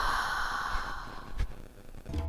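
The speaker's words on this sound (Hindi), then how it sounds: "उसे अपने ठीक कानों के पास किसी की गहरी सांसों की आवाज सुनाई दे रही थी" Heavy, close breathing right beside the ear as a horror-story sound effect, slow deep breaths and sighs heard alone with a soft airy hiss.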